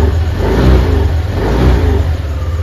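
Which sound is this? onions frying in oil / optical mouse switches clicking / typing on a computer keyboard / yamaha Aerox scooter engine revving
yamaha Aerox scooter engine revving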